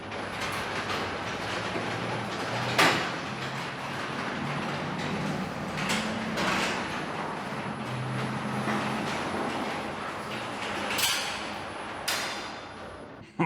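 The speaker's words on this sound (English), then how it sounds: "We're gonna start by closing the door." Rumbling, rattling roll of a rough-running garage door closing, steady mechanical grinding with a few sharp clanks along the way and a thud near the end.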